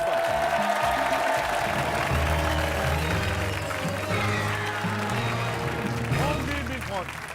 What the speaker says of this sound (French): Et en attendant, on l'applaudit.